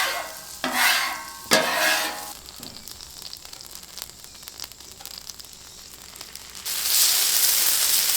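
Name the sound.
shrimp sizzling in oil on Blackstone griddle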